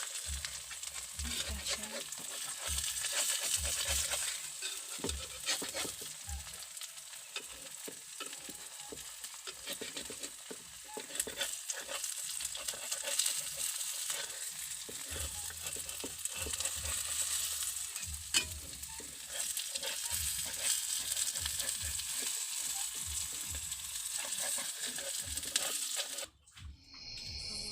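Scrambled eggs with spinach frying in a pan, a continuous crackling sizzle with occasional stirring scrapes, steady and close, with a brief spoken remark.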